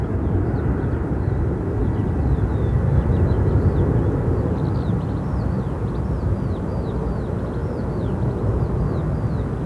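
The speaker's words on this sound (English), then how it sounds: "Speedbird, the 777 coming in now" A British Airways Boeing 777 lands at Gatwick Airport, a steady loud broadband roar of jet engines throughout, with chirping birds faintly on top and no talk.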